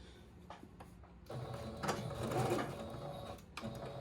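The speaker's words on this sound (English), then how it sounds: "do a little back stitch" A sewing machine runs a short back stitch while a thrifted garment is altered, its needle whirring in brief steady bursts with a slight pause between the forward and reverse runs, close and moderately loud.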